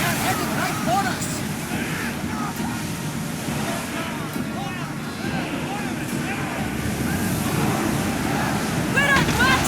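Wind rushes and surf splashes steadily around a ship under sail in Assassin's Creed Odyssey, with continuous rolling water noise as voices shout over it.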